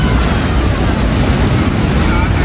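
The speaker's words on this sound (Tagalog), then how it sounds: "what a journey behind the falls" Niagara's Horseshoe Falls heard from behind the falling water: a loud, dense, unbroken roar of crashing water that fills everything with steady noise.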